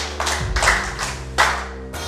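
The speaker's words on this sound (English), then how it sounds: "Clap for me" Several hand claps land over a steady background hum, a short burst of clapping from a small group, fairly loud and close.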